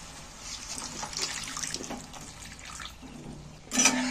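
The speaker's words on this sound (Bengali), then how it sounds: "আলুগুলো কষানো হয়ে গেছে, জল ঢেলে দিচ্ছি।" Water pours into a pan of potatoes cooked down in a spice mix, making a steady splashing, bubbling rush that swells to a louder gush near the end.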